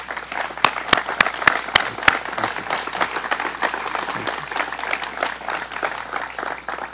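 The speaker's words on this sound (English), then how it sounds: "let's give them a round of applause" Audience applauding state legislators at a governor's announcement event in Niagara County, a few sharp nearby claps leading into steady, full crowd applause that carries on throughout.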